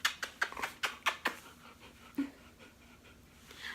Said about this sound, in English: This is my doggo.